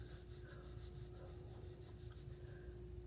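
Hand rubbing hair color creme (Creme of Nature Ginger Blonde) into hair, a soft, steady, close-up swishing friction that continues for several seconds over a low background hum, with no talking.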